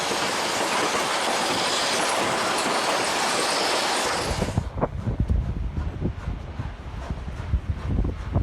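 A narrow gauge train rumbles past up close, wheels clattering rhythmically over the rails with occasional squeals, then the roar drops to a lighter, irregular clicking.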